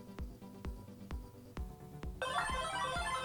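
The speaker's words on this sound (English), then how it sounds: "And you can hear my phone ringing." A phone rings after being triggered from a Fossil Gen5 Carlyle HR smartwatch, with a series of sharp periodic taps or clicks followed by a bright, dense ringtone that starts partway through, close and moderately loud.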